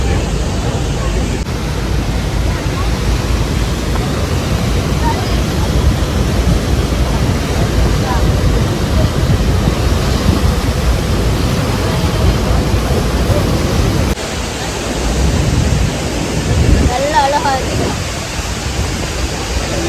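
Roaring rush of the Rhine Falls waterfall, a steady, loud broadband wash of falling water filling the whole stretch, with people talking faintly over it near the end.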